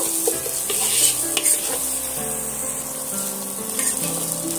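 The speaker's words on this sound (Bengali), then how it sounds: "আমি মশলার সঙ্গে সমস্ত এইভাবে কষিয়ে নেব যতক্ষণ না আদা রসুনের একটা কাঁচা গন্ধ চলে যাচ্ছে" Potato curry masala with ginger-garlic sizzles in hot oil while a spatula stirs and scrapes the pan in short, repeated strokes, close and steady with no talking.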